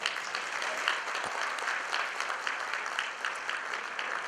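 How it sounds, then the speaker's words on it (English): An audience in a ballroom at a gala dinner applauds, a dense wash of steady clapping heard at a moderate distance. "Please give them a round of applause."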